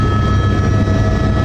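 A police helicopter passes overhead, its loud, continuous rotor drone filling the brief moment steadily with no voices.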